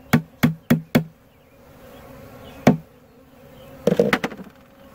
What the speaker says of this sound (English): The bees that hit the ground are already crawling up on the frame.